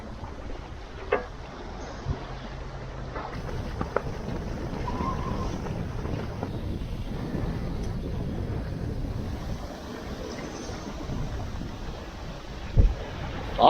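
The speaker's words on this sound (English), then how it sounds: "the wind is flailing around" Strong gusty wind roars steadily over a single-handed sailboat moving quickly along the Baja coast, a constant broad rush with occasional bumps and knocks.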